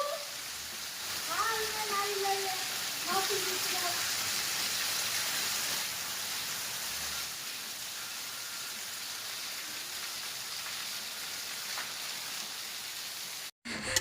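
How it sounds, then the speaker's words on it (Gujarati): Heavy rain pours down in a steady, dense hiss that lasts throughout, with voices briefly heard over it early on. "વરસાદ ધોમ પડે"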